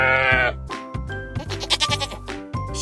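A sheep bleats several times in quick succession, wavering and close, the cries overlapping into a loud, shaky run.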